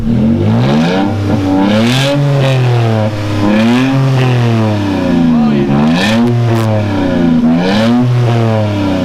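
A Toyota Tacoma with an MBRP aftermarket exhaust revs loudly up and down again and again, its pitch rising and falling close by, with a brief voice cutting in near the end.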